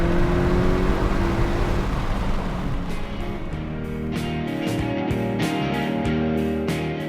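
Hyundai Kona N on a race track, its engine droning loud and steady with a rising revving whir and rhythmic gear-shift breaks in the second half, continuous and close.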